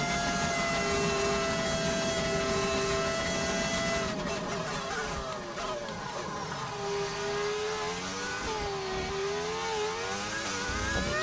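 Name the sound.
V10 race car engine, video game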